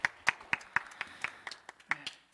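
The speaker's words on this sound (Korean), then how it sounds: "그 환영의 박수로 맞아주시겠으면" Brief applause of welcome during a young adults' church service, a handful of sharp, separate claps in an uneven rhythm, fairly close and moderately loud.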